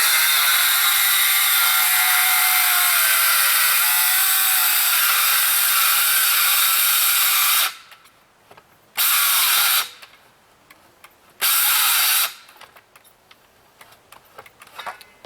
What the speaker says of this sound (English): It's not cutting even a normal 2x4 anymore, and this is dry.